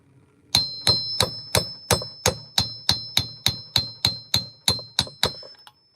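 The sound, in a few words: hammer striking during oil seal replacement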